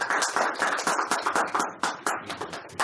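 Sparse clapping from a small audience welcoming a speaker at a cultural lecture, a handful of distinct, fairly close claps in an uneven rhythm with gaps between them.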